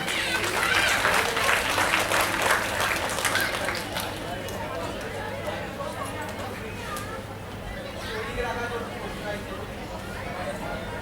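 Audience clapping at an annual yoga association award ceremony on a stage in Baharampur, a dense burst of applause loudest at the start and thinning out, with crowd chatter and voices underneath.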